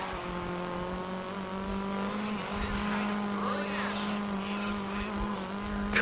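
A Golf GTI race car engine in the racing game GRID 2 drones steadily at high revs through a timed lap. The sound is constant and close, with a faint tire squeal near the end.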